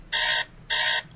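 A personal alarm beeps twice in a row, each bright electronic burst lasting about a third of a second with a brief pause in between, close and clear against faint background hiss.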